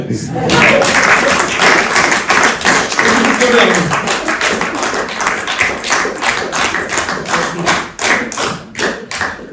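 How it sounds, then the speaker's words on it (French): Applause for Arnaud at a ceremony awarding medals to solidarity-minded citizens: a crowd claps loudly and steadily for nearly ten seconds, with scattered sharp claps standing out and some voices mixed in. "Vous pouvez l'applaudir."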